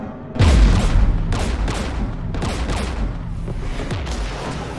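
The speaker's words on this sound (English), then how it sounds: "We're taking fire!" Dense video game battle gunfire and artillery near an anti-aircraft jamming tower held by Geth: heavy booming blasts and rapid volleys of shots roll continuously, loud and close, with repeated impacts every second or so.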